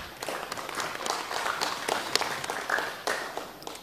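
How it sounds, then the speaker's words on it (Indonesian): Attendees at an Indonesian parliamentary Commission V working meeting with the Minister of Transportation applaud ministry staff: scattered, uneven hand claps from a modest group, fairly quiet and somewhat distant, with individual claps standing out. "Tepuk tangan untuk teman saya Pak."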